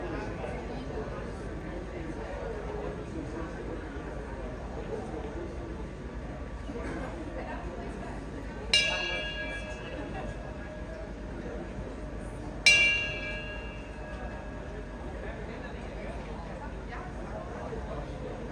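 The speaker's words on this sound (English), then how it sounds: "the distraction is someone ringing a bell from behind the dog" Two distinct metallic bell rings, a few seconds apart, rung as a distraction behind a dog during a 2023 Mondioring World Championship trial, each ringing out and fading over a steady murmur of background chatter.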